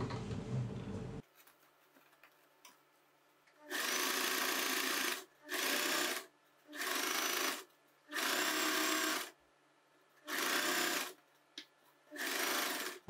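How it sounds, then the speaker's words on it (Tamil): A sewing machine stitches a churidar side slit in seven loud running bursts separated by short pauses. The opening is quiet apart from a brief handling rustle, and nobody speaks. "இந்த ஓரமாகவே நம்ம தச்சு வரலாம்."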